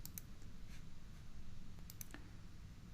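A computer mouse gives a handful of faint, sharp clicks, spaced irregularly and including a quick cluster. They sit over quiet room hiss, with no one speaking.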